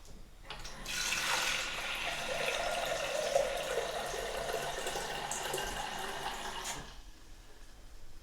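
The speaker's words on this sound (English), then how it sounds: "So the base part of kettle is to be filled with water." Water pours steadily into the base of a Turkish tea kettle for about six seconds, a smooth rushing stream that starts and stops cleanly, with no voices.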